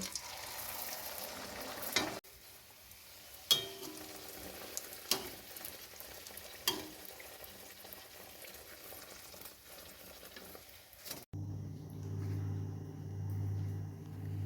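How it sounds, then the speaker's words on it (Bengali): Green pea kachori deep-frying in hot oil in a wok, a steady close sizzle and bubbling with occasional sharp clicks and clatters of a utensil, no voices. "এবারে এইভাবে মটরশুঁটির কচুরিগুলো ভেজে নেব।"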